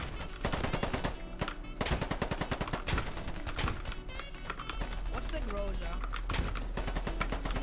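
A carbine fires in the video game Polygon, crackling out rapid automatic bursts that run almost without pause, loud and close.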